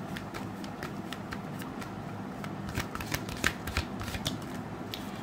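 Tarot cards being shuffled and drawn at close range: a steady run of soft papery riffles and flicks, with a few sharper card snaps partway through, no voices.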